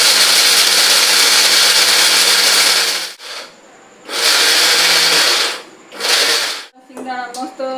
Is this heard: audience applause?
no